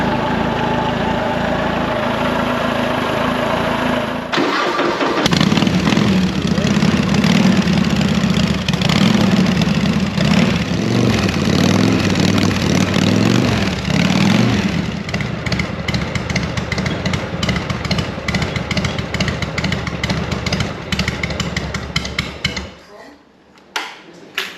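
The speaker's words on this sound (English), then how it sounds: "That's a hot pan head engine" A hot Harley-Davidson Panhead motorcycle engine idles nearby with a steady, loud low rumble for most of the stretch, then cuts off near the end. People talk faintly underneath.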